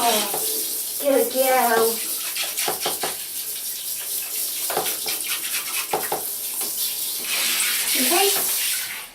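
Running tap water rinsing shampoo off a guinea pig during a bath, a steady close splashing hiss under brief, gentle speech, with small squeaky guinea pig calls near the start and end.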